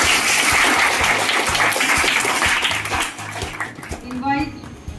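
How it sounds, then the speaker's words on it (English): An audience at an IT training-batch event applauds, sustained clapping with talk and a voice mixed in, fading after about three seconds as a voice and other sounds take over. "Have a big applause for this."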